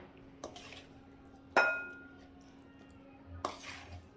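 Dishes and cutlery clink while amla and chili pickle is packed into a bowl with a lid, giving three separate sharp metallic chinks spaced apart over a quiet background.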